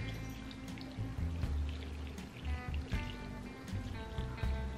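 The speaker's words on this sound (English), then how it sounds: "Let's pour our broth on." Pork broth pours onto a bowl of noodles with a steady liquid splash, close and fairly loud, broken by a few soft clunks of the container.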